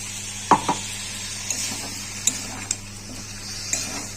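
Thick ginger, garlic, onion, tomato, cumin and coriander spice paste frying in a pan for prawn and potato curry, a steady soft sizzle broken by a few sharp spatula scrapes and knocks, fairly close.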